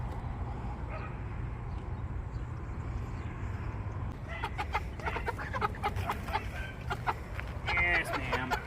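Heavy meat chickens in a coop cluck and squawk in scattered bursts over a steady low rumble, the calls growing busier in the second half of the clip.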